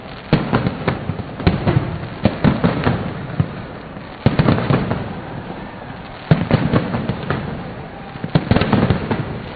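Fireworks burst over Lahore during a city celebration, a rapid crackling of firecracker pops and sharper bangs in clusters. The volleys are loud and fairly close, with faint crowd noise between them.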